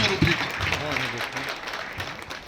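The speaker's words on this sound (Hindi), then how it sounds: "जोरदार तालियों के साथ स्वागत किया जाए" An audience gives a warm round of applause welcoming Ram Swaroop at a stage program, a brief burst of clapping with a voice and crowd murmur layered over it.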